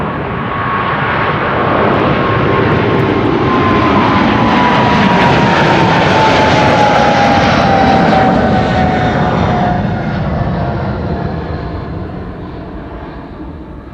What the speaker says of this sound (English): This is KLM flight 757 to Panama City, 777-300